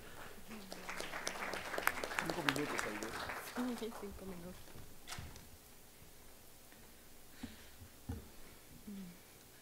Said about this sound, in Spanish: Un aplauso, por favor, para Aide